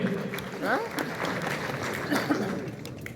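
Applause from an audience at a community event welcoming a guest speaker, a steady patter of clapping with a few voices and light chuckles mixed in.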